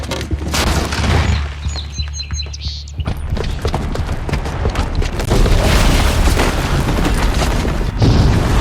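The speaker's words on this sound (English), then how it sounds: "the booby trap on the bomb downstairs is gonna get set off" A booby-trapped bomb goes off in the video game Horizon Zero Dawn, heavy booming blasts and crackling debris rolling on for several seconds, loud and dense, with faint game voices mixed in.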